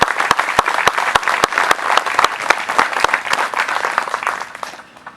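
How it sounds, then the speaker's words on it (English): A crowd applauds to welcome a speaker at an outdoor Memorial Day ceremony at Roselawn Cemetery in Martinsville, Virginia: dense, loud clapping that carries steadily and tapers off near the end. "let's all give him a welcome applause"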